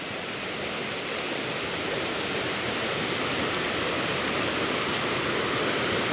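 Steady rushing of a flowing stream, continuous broadband water noise that holds level and close throughout with no voices.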